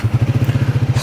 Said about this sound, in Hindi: सो स्टार्ट करते हैं बाइक को